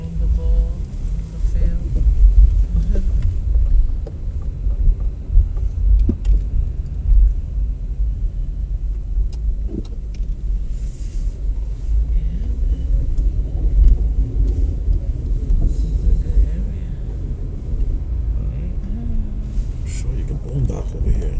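A truck on a road beside a park field gives off a deep, continuous engine rumble that holds steady and fairly loud throughout, with faint background noise on top.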